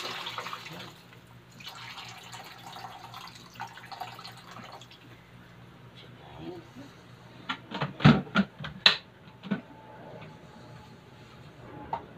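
Hot water is dispensed from an electric air pot while preparing a spicy seafood noodle soup. A quiet, steady trickle of pouring liquid is followed by several sharp, louder clinks and splashes near the middle.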